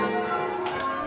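Church bells ring at a West End church in London, with sustained tolling tones layered over one another and a brighter strike near the end.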